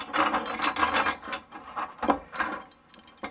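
A washer and nut are fitted onto a bolt on a wooden table stand in a converted school bus, making close, repeated metallic clicks, scrapes and rattles in an uneven rhythm, with no talk.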